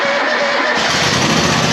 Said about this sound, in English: So when you go to start these up, you basically turn the key, let it go through its priming part of the engine cycle